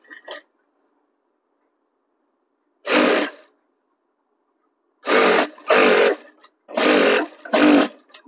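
A sewing machine stitching a blouse, running in short bursts separated by pauses: one brief run, then a longer stretch of several quick back-to-back stitching runs, close and clear with no talk.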